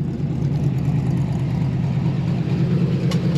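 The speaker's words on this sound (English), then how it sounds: "Engine sounds good, it's idling right." A 1969 Chevrolet Camaro V8 engine idles steadily with a smooth, low, even hum that holds constant throughout, with no voices.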